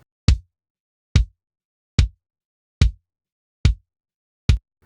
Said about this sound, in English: This is what the AKG D12 microphone sounds like on the kick beater